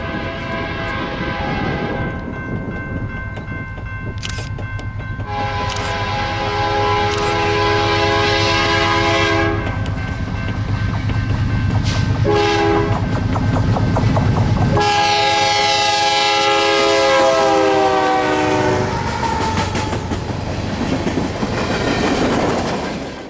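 A northbound potash freight train led by a Heritage locomotive passes a quiet rural crossing, its horn blaring in several long loud blasts over rumbling, clattering wagons that continue steadily throughout.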